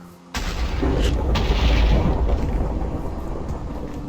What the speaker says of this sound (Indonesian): ternyata hujan petir